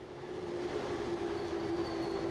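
A train rumbling to a stop at a station in a visual novel game, a steady loud rolling rumble with a sustained tonal hum running throughout, no voices.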